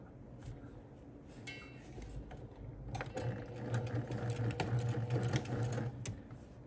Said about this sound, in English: Now let me show you how I sew it.